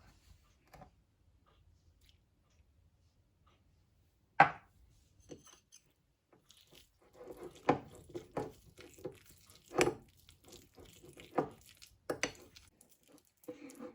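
Brownie batter for a microwave brownie being mixed thoroughly in a bowl, with scattered clicks and taps of a utensil against the dish, one sharp knock early and irregular scraping strikes building later, close and fairly quiet.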